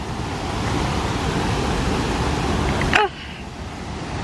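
Steady roar of a waterfall near the Red Jasper Beer Garden in Pigeon Forge, a broad continuous rush heard up close that drops off abruptly near the end to a quieter, more distant wash.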